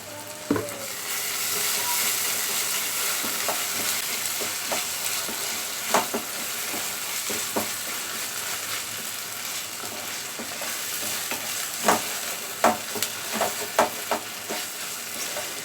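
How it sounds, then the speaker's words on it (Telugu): Two spoons of ginger paste fry in a hot pan, a continuous sizzle broken by scrapes and clinks of a spoon stirring, the strokes growing sharper and more frequent toward the end. "ఈ అల్లం పేస్ట్ బాగా వేగాలి."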